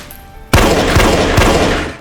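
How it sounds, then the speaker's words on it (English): After a moment of quiet, a loud burst of rapid gunfire erupts and continues in a dense, echoing volley. "Hearing gunshots, Jesse instinctively hides, but to his shock"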